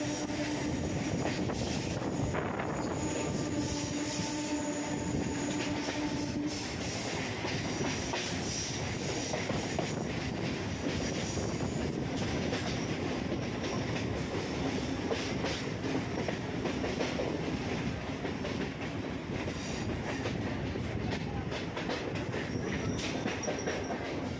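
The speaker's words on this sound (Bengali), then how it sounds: "এই বাগবাজার স্টেশনের আগের থেকেই ট্রেনটি বাঁদিকে টার্ন নেবে" A Kolkata Circular Railway suburban train rumbles steadily along the rails beside the Ganges near Bagbazar station, with a continuous loud roar, faint wheel squeal and occasional clicking joints.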